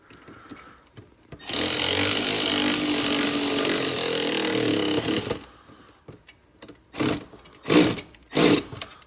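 A power tool tightening an 8mm fastener during a Weistec intake install on a Mercedes-AMG M133 engine, one sustained whirring burst of about four seconds, followed by three short bursts.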